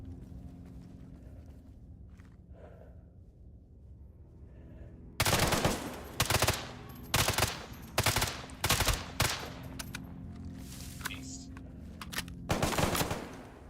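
Automatic 5.56 rifle fire in the video game S.T.A.L.K.E.R. GAMMA, loud close bursts and single shots in an irregular rhythm after a quieter stretch, with no talking.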